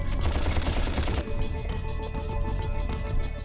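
Rapid first-person weapon fire in the Ratchet and Clank video game, a dense burst of shots for about a second followed by lighter, scattered firing and game effects, with no talking.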